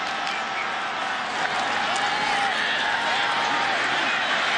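Stadium crowd at a Memphis versus Houston college football game cheers and claps after a spinning run out of the backfield, a dense, continuous roar with voices rising above it.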